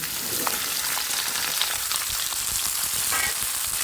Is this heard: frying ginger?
yes